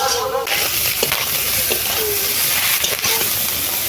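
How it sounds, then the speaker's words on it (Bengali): Fish roe and pineapple are stirred and fried in oil, producing a loud, continuous close sizzle and hiss with occasional scraping clinks from the stirring. "এই যে আমি নাড়ছি ভাজছি"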